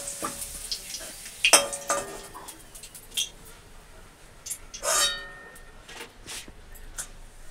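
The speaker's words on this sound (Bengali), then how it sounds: "এই যে পাঁপড় ভেজে নিচ্ছি" Papad frying in hot oil in a home kitchen, a steady quiet sizzle broken by a few sharp clinks and scrapes of a utensil against the pan.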